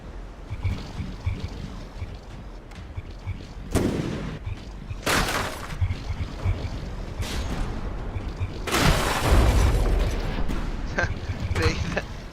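Ship shells explode in the naval combat game From The Depths during a frigate battle, a series of heavy booming bursts that land every second or two over a constant low mechanical rumble, the last one longest and loudest.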